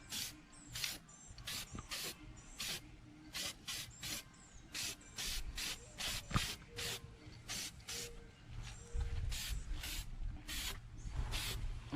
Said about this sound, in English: What's that spray paint there? It's that PJ1 factory color.